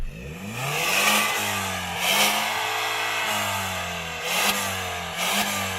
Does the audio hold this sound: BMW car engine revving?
yes